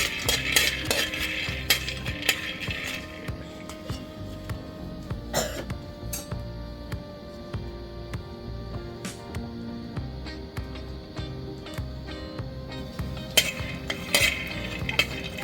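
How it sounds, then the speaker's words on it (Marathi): A handful of peanuts is dry roasted in a pan and stirred constantly, giving a continuous rattling, scraping clatter with small clinks of the utensil against the metal. It runs steadily at moderate volume, with no voices. "एक मूठभर शेंगदाणे भाजून घ्यायचे आहेत।"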